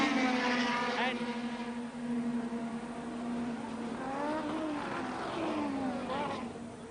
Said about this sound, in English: And now this is lap 21, and Piquet has completed the 21st lap